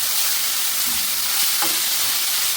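Beetroot thoran sizzling in a pan during Kerala-style cooking, a steady close frying hiss with a couple of brief stirring scrapes in the middle, and no one talking.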